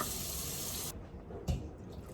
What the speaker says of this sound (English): I'm just adding a little bit more water so he can really cook.